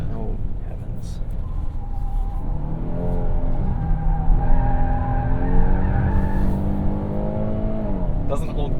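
Tires on a 2023 Kia Telluride with a 3.8 engine squeal in long wavering tones during oversteer with traction control off, heard from inside under steady engine and road roar, with people talking.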